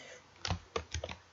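A handful of crisp computer keyboard keystrokes in an uneven rhythm, close and clear in a quiet room while code is typed.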